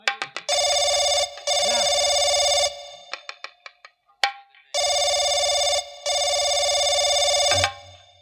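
A telephone rings in two long electronic bursts separated by a pause, with short dialing beeps and clicks in between, loud and close.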